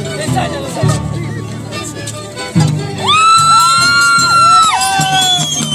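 A crowd at a scissors dance performance shouts, whoops and cheers loudly, with several people calling out over the noise and a long rising yell near the end.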